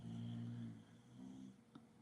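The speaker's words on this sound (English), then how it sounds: "over here snoring, cutting down trees again." A person snores nearby in two long, rumbling breaths, the first louder and the second softer, followed by a faint snort, with no talk over it.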